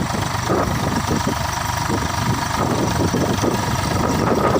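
A tractor engine idles nearby, a steady low chugging rumble that stays even throughout.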